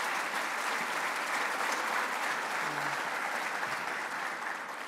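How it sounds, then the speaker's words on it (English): A large audience at a Herkimer Community College event in the Mohawk Valley applauds, and the dense, steady clapping holds for about five seconds before easing slightly at the end. "Let's give him another round of applause."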